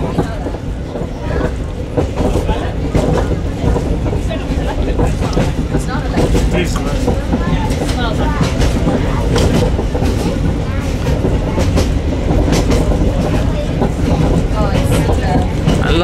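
Heritage railway train in Warsaw, Poland running on rails across an unfenced road crossing, a steady loud rumble with rhythmic clatter throughout, with voices talking over it.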